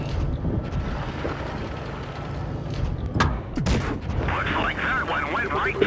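KV-1 heavy tank cannon in a tank combat game, firing at a German Panzer: a couple of sharp, heavy booms land near the middle, over a constant rumbling engine bed and battle noise.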